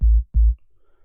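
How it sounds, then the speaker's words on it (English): A low sine-wave tone from the Ableton Operator synthesizer, the starting point for an 808 trap kick, sounds twice as short deep booming pulses with a brief gap between them, then quiet. "we're going to start with a sine wave"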